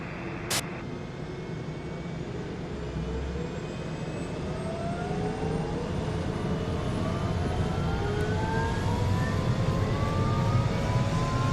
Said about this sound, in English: Taxi to the runway and takeoff.